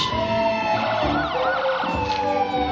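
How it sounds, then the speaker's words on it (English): The Woodbridge Township Ambulance and Rescue Squad's ambulance siren wails loudly and continuously at a holiday parade in Woodbridge, its rising and falling tones joined by a second siren's pitch sweeps. "Woodbridge Township Ambulance and Rescue Squad."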